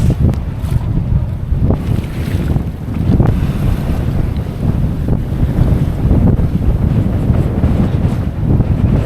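Wind at about 15 knots buffets the microphone aboard a sailboat, a loud continuous roar with gusty swells and water sloshing beneath it, and no voices.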